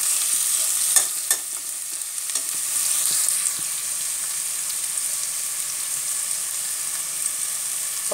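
Onions sautéing with salt in a pan for a puttu upma, a soft steady sizzle with a few light stirring clicks early on, close, no talking.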